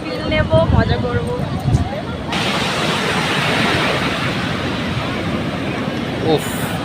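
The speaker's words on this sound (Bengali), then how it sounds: "জাস্ট সমুদ্রের আওয়াজটা দেখো" Sea waves at night on Puri beach make a steady, broad wash of surf that swells slightly and holds throughout, with voices chatting over the start before the roar takes over alone.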